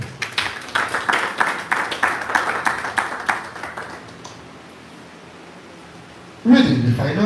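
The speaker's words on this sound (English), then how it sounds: "clap for yourself" A group claps for itself, a burst of fairly close, rhythmic hand clapping for about four seconds that fades to quiet, followed by a voice speaking.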